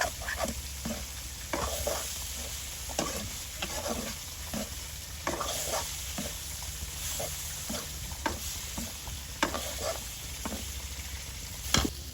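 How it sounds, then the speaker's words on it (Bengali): Pointed gourd slices fry in oil at a village cooking fire, giving a continuous close hiss broken by regular stirring and scraping strokes throughout. "পটল ভাজিগুলো ফ্রাই হয়ে আসছে"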